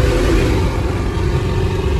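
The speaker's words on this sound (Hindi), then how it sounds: "गाड़ी आप देख सकते हो साइलेंसर की आवाज़ है" A modified Mahindra Thar with a loud aftermarket silencer exhaust, heard close up as a deep, steady engine rumble and drone while driving at speed, with no talk over it.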